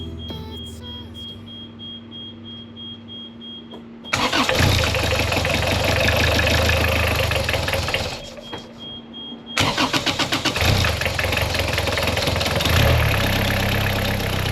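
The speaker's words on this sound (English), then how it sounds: "This moment, hearing the engine start," A boat's engine cranks and catches after a quiet stretch, then runs loud and steady at idle, cuts out briefly and starts again, rumbling continuously at close range aboard a liveaboard vessel in the Pacific.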